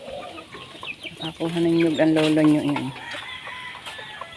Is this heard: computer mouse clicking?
no